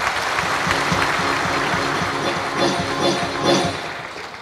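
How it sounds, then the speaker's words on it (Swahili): An audience claps steadily for a football club's executive committee members at a Young Africans event, a dense sustained burst of applause swelling a little near the end. "Tuwapigie makofi."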